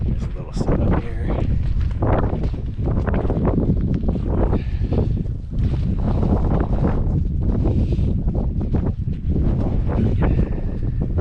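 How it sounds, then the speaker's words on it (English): Strong gusting wind at a campsite on the Pacific Crest Trail, loud buffeting rumble against the microphone with fluttering surges and brief lulls throughout. "Did everything I can, but it's just really windy"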